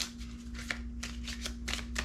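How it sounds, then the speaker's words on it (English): A deck of cards is shuffled up close in quick riffles and rustling bursts, soft and papery, over a steady low background hum with no talking. "We'll shuffle the deck a little bit."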